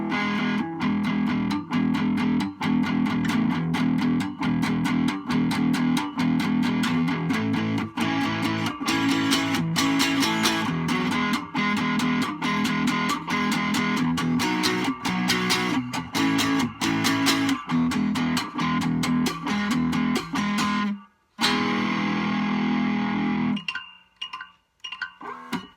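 A cigar box guitar, played hard through distortion, strums major-third chords in a dense, gritty, continuous wash with rhythmic attacks. It cuts out briefly near the end, then returns before stopping.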